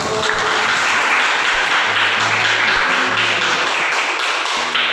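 Steady, dense applause from a group of people clapping together, loud and continuous throughout without a break.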